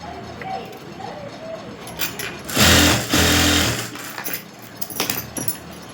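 A sewing machine stitches a back-neck button strip onto a garment, with short quiet runs followed by a loud burst of fast continuous stitching midway and brief whirring spurts after, close up with no talk.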